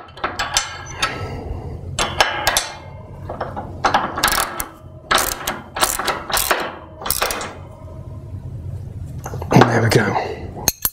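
Fittings on a wrought iron and brass bed frame are tightened by hand, giving a series of metallic clicks, scrapes and ratcheting clanks in irregular bursts, with someone talking in between.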